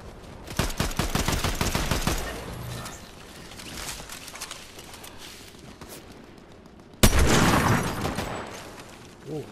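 Gunfire in the video game Fortnite: bursts of rapid shots at the start, a sharp loud blast near the end, with mechanical clicks and ratcheting between.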